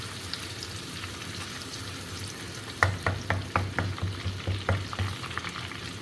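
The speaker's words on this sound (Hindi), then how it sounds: "इन सब को फ्राई कर लेती हूँ अच्छे तरीके से।" Garlic and ginger sizzle steadily in melted butter in a pan for a white chicken karahi, with a few sharp spoon clicks and stirring scrapes breaking in halfway through.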